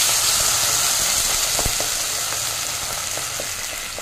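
Steady frying sizzle from a pan of Bengali hilsa fish curry with brinjal and bori, a dense even hiss throughout with a few faint clinks, no voices.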